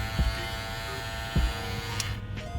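A Wahl Cordless Master hair clipper runs with a steady electric buzz and hum. It sits close and fairly quiet, with a couple of soft low thumps as it is handled.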